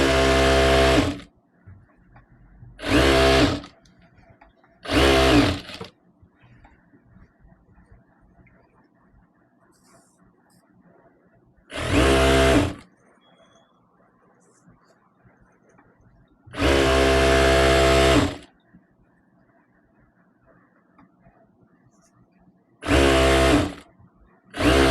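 A sewing machine stitches the middle seam of a dress made from an old saree, running in several loud, steady bursts of a few seconds each, separated by quiet pauses.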